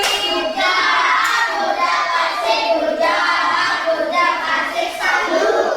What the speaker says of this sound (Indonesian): Beri tepuk tangan untuk Naura di WDGOB.